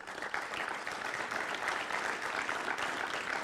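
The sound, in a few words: audience applause at a forum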